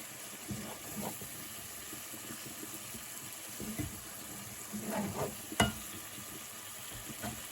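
Seafood boil sauce with a pinch of cayenne stirred in a pan, giving quiet, intermittent scraping and soft bubbling, with a sharper clack of a utensil near the end.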